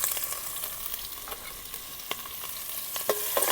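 Onions, chillies, garlic and curry leaves sizzle in hot oil for a drumstick kadhi while a utensil stirs them, giving a brief run of close scraping clicks over a steady fry hiss.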